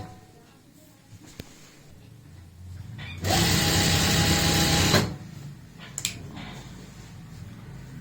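A sewing machine stitches a folded fabric border trimmed with gota patti lace on an umbrella-cut ghera. The motor whirs in one steady, close burst of about two seconds, with a quiet room before and after.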